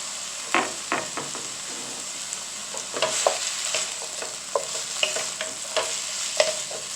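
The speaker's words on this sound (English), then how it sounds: "Stir frying it, baby." Peppers and garlic sizzle in a hot pan while a utensil scrapes and stirs in scattered clacks over a steady frying hiss.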